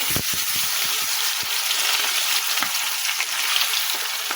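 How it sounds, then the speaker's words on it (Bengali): Eggs frying in a pan with onion, garlic, cumin paste and tomato, giving a dense, continuous sizzle with scattered sharp pops and spatters, close and fairly loud, with no talking. "এখন ডিমটা ভালো করে ভেজে নিই।"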